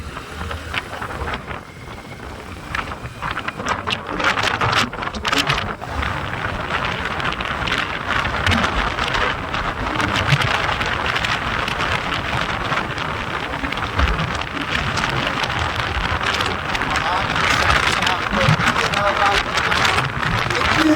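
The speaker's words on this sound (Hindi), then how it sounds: "तेज हवा चल रही है।" Strong wind roars steadily over the microphone on a motorcycle journey through Ladakh, a loud, continuous buffeting rush with gusty bursts throughout.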